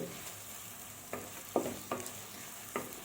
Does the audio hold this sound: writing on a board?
no